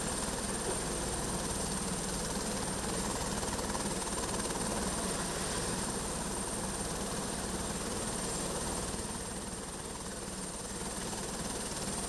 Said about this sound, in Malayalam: സംസ്ഥാനത്തെ ആദ്യ ഹെലികോപ്റ്റർ ടൂറിസം സർവീസ്